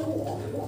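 Pigeons kept for playing and flying coo in their coop, giving one short, low, throaty cooing phrase close by, with no talk over it.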